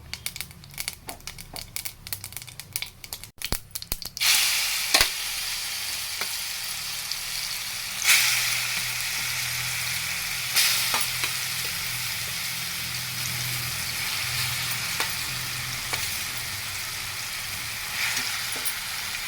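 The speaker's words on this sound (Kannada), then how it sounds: "ಈ ಮಾವಿನಕಾಯಿ ತುರಿದಿರ್ತೀವಲ್ಲ ಇದನ್ನು ಹಾಕ್ಕೊಂಡು ಒಂದು ಇಪ್ಪತ್ತು ನಿಮಿಷ ಚೆನ್ನಾಗಿ ಉರಿಬೇಕಾಗುತ್ತೆ" Grated raw mango lands in a pan of popping mustard seeds, a few clattering knocks giving way to a loud, continuous close sizzle with occasional stirring scrapes.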